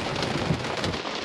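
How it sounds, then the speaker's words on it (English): Heavy rain pouring down around a car at an Airstream campsite in northern Arizona, a dense, loud, continuous hiss and patter with no voices. "Yeah, it's just rain now."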